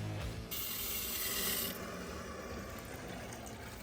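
Bright metallic ratcheting whir for about a second as a ratchet tightens fittings, then a quieter mechanical hum and faint background noise, no talking.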